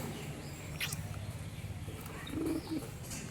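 Giribaz pigeons cooing softly in a loft, two short low coos toward the end after a quick brief chirp, faint against a quiet background.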